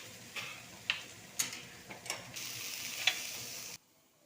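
Banana stem frying in a pan until browned, a steady soft sizzle broken by a few sharp clicks and scrapes of stirring, close and fairly quiet, cutting off abruptly near the end.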